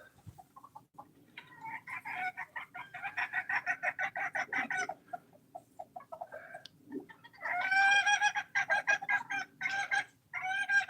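Chickens cluck steadily at close range, with rooster calls rising loudly near the end, in a flock that includes two roosters and hens.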